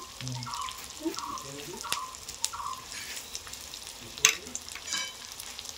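Spiced prawn malaikari masala with tomato, Kashmiri chilli powder and turmeric sizzles and is stirred in a pan, soft frying crackle with scraping strokes and a sharp clank, while a voice talks quietly in the background.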